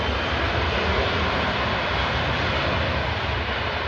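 An airplane at London Stansted Airport roars as its engines spool up for takeoff, a loud, dense, steady broadband whir that holds without break, heard alone with no talking.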